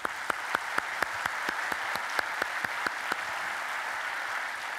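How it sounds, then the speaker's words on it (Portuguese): Applause from a lecture audience in Guimarães, a soft continuous patter of clapping with sharper individual claps standing out in a fairly regular rhythm, fading toward the end. "uma salva de palmas para eles"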